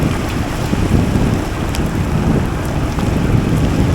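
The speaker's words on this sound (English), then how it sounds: "Now the rain's coming down pretty good now." Heavy rain during a countryside bike ride in Penang, a loud, dense, steady wash with wind buffeting the microphone, continuous throughout and with nobody speaking.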